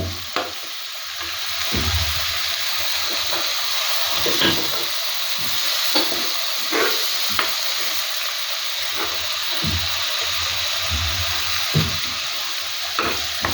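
Ingredients with salt frying in oil for kachupuli, a Kerala dish: a steady close sizzle and hiss runs throughout, broken by frequent stirring clicks and scrapes of a utensil against the pan.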